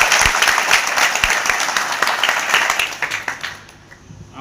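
An audience at a school festival honouring parents claps loudly in dense, sustained applause that thins and fades out over the final second.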